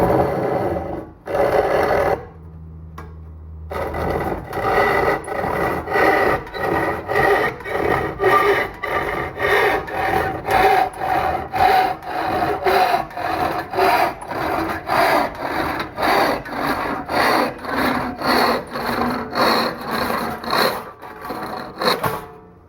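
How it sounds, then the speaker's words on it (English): A hand saw cuts through cherry wood in fast, steady back-and-forth strokes, rasping rhythmically for about twenty seconds after a brief pause near the start. "Who said hand sawing had to take long?"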